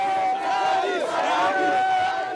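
A large crowd at night surges around a presidential motorcade driving through Conakry, a loud massed roar of shouting and cheering voices that swells and holds without a break.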